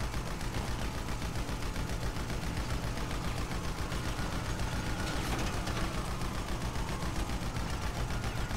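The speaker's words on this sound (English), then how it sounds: "Just firing for the hell of it." Rapid automatic gunfire from a GTA 5 video game shootout, a steady dense rattle of shots running throughout with no pauses and no talk.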